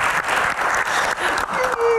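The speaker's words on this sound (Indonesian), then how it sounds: "Tepuk tangan yang paling meriah dong buat Gian" Studio audience applauding on an Indonesian Q&A talk show, a lively burst of clapping and cheering with brief dips, a faint tone creeping in near the end.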